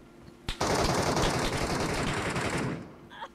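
A sustained burst of rapid automatic gunfire from the video game Metro Royale roars loudly for about two seconds after a single sharp shot, then cuts off, leaving a faint tail.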